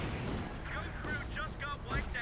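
A KV-2 heavy tank's big gun booms out in a Company of Heroes 2 battle, with heavy blasts and rumbling explosions landing every second or so under a dense wash of combat noise and faint voices.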